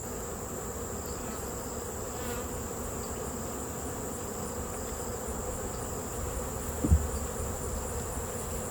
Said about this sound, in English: I got a lot of bees in my warming room.